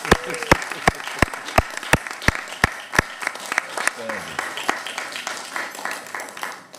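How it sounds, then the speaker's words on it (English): Applause from a small audience at a county commissioners' meeting, heard as a row of loud, evenly spaced sharp claps over sparse scattered clapping that thins out toward the end. "You can give them a round of applause."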